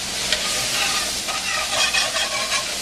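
Carrots and onion sizzle in olive oil in a pan, a dense, even frying hiss with small crackles and occasional stirring scrapes, steady and close with no talk.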